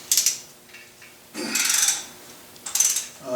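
A ratchet backs out 12 mm bolts on a Mercedes M117 V8 during an engine teardown, giving three short bursts of rapid metallic clicking with quiet pauses between them, close to the microphone.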